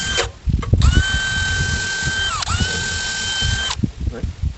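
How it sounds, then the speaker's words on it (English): Power drill fitted with a 3/16 long shank bit bores in during electric panel and meter socket installation, whining steadily for about three seconds at close range, briefly dipping in pitch mid-cut, with voices and handling noise before and after. "We got the 3/16 long shank drill bit chucked in here."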